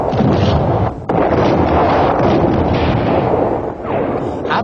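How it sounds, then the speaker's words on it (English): Artillery bombardment from the 1967 Arab-Israeli war, divisional guns shelling defensive positions: a dense, continuous roar of blasts and rumbling with a brief lull near the start. "Sharon brought forward the divisional artillery units to soften them up by persistent bombardment"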